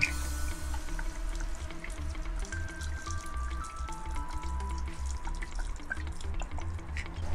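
Whisky being poured into a clericot pitcher, a steady, close trickle of liquid with small drips and splashes throughout, with soft background music.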